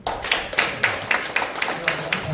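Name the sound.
audience clapping at lecture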